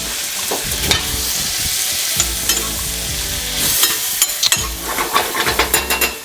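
Shrimp and garlic frying in a pan for shrimp scampi, a loud close sizzle with bursts of crackling and spatula scraping, rising into rapid pops near the end.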